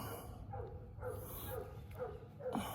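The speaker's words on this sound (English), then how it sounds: "I got a loud dog. Won't stop yapping." A loud pet dog barks and yaps at close range in a few short bursts roughly every half second, with brief gaps of quiet between them.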